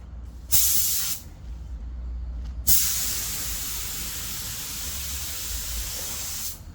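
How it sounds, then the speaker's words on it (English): An Inokraft Drizzle spray gun sprays clear coat in a steady close hiss. A short burst comes first, then a long continuous spray. "So now I'm gonna shoot this clear coat on this one that I used the Pro on last time"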